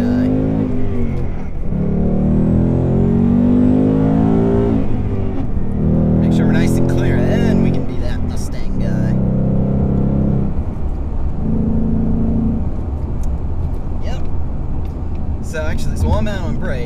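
A Ford Mustang GT with its stock active exhaust and the valves open rumbles loudly while being driven, pulling through several rising revs in distinct bursts with a deep throaty drone between them.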